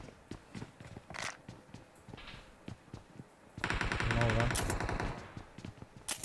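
Machine-gun fire in an online multiplayer shooter game, with scattered single shots and footstep-like clatter building into a dense, loud automatic burst in the middle, while a player talks over the action.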